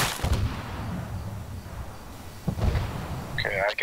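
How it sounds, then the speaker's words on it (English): Tank cannon fire in the military game Arma 3, two heavy booming blasts about two seconds apart amid rumbling battlefield noise, with radio-style voices chattering near the end. "Getting shot at by the tank."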